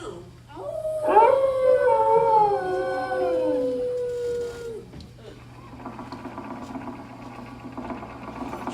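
Rover the dog howls in a long, rising and falling animatronic wail inside Disney's Carousel of Progress theater, loud and close, then trails off into a steady mechanical whir with light background hum.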